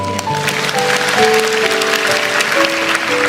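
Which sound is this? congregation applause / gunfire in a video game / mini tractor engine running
congregation applause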